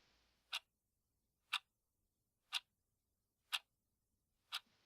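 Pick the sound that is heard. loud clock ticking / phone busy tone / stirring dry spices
loud clock ticking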